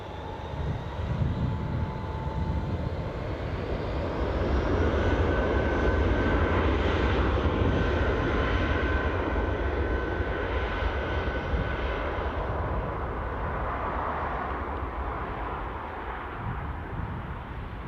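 A Boeing 777 airliner at Newcastle airport, its engines a broad jet roar that builds, holds loud for several seconds and slowly fades, heard from a distance with no talk.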